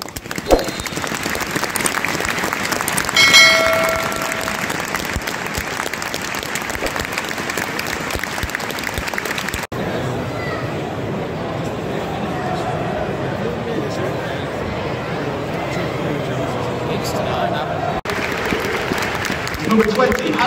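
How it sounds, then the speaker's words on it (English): Sustained applause from a large stadium crowd at a Blackburn Rovers versus Birmingham City football match, steady and dense for the whole stretch, with faint voices mixed in among the clapping. "A minute's applause will end on the referee's whistle."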